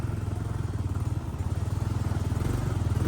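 A motorcycle engine runs steadily at close range on a trail in the rain, its rapid pulsing rumble continuous throughout with no talking.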